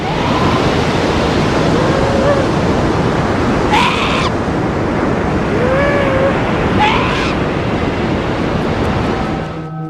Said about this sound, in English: once the pups are old enough, they're in the surging waters of the Southern Ocean